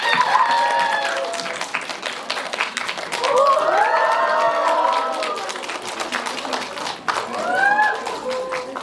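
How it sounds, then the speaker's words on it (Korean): An audience at a Hedwig special guest-visit event claps to welcome a music director, a sustained burst of applause with voices calling and talking over it. "환영의 박수 부탁드릴게요"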